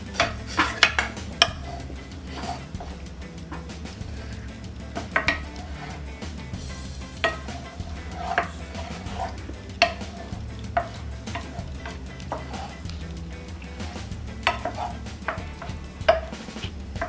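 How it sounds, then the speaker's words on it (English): Ingredients being mixed in a bowl in a home kitchen, giving steady scraping and stirring with repeated sharp utensil clinks against the bowl over a low background hum, close and moderately loud, with no talking. "Once you're done putting the ingredients, you have to mix them."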